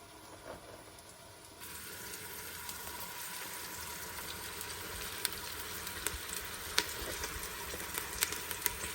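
Meatballs fry and brown in a pan over a medium-high flame with a continuous hissing sizzle that swells after a quieter start, scattered with small pops and crackles, close and steady with no talking.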